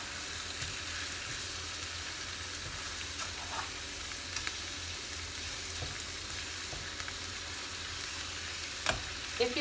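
Beef steak strips and onions fry in a pan with a steady, close broadband sizzle that holds throughout, broken by a few soft clicks of stirring and a sharper knock near the end.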